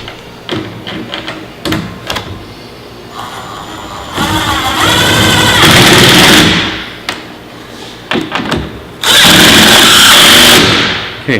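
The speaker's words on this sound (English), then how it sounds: "This is a 3/8 nut driver." A 3/8 nut driver tightening nuts and washers down onto a base during Tufway assembly: two long whirring power-driver bursts mixed with scattered clicks and knocks, heard up close with no talking.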